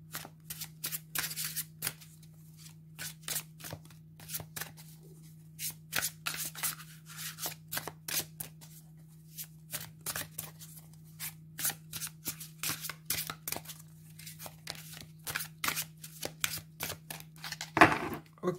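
Light Seer Tarot cards are shuffled by hand in a quiet room, a long series of crisp riffling bursts in an irregular rhythm, close and clear, over a low steady hum.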